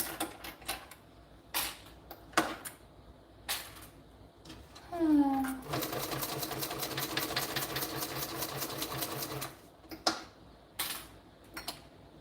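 A sewing machine runs in a steady, rapid mechanical clatter for several seconds, preceded by clicks and short bursts of handling, then stops; it sounds close and fairly loud, with no speech over it.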